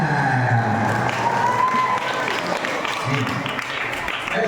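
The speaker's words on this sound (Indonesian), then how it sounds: "Tepuk tangan." Steady applause from an audience at a Maulid Nabi gathering, a dense wash of clapping mixed with murmuring voices that continues throughout.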